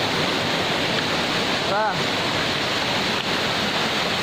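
Twin Falls waterfall roars as a loud, steady, broadband rush of falling water that fills the whole clip, with a brief voice heard faintly over it near the middle.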